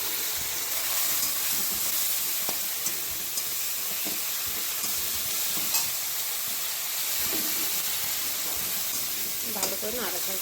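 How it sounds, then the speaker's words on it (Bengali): Spice paste fries in a wok, giving a continuous even hiss and sizzle with occasional faint scrapes and clicks of stirring, steady throughout at a moderate level. "ভালো করে নাড়াচাড়া করবো।"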